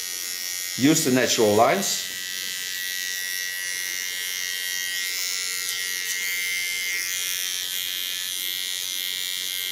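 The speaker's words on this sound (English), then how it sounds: "take my small clipper" A small electric hair clipper buzzes steadily and close while cutting short hair, a thin constant hum running throughout, with a brief spoken phrase near the start.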